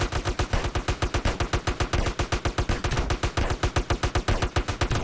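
Rapid, sustained automatic gunfire in a GTA roleplay video game, a fast steady stream of loud, evenly spaced shots with no pauses.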